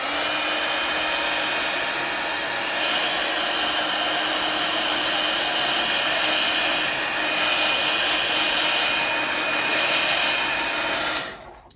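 A handheld heat tool blows steadily to dry watercolor paint in an ink-and-wash journal page, a loud continuous whir with a faint high whine, running alone for about eleven seconds before cutting off abruptly.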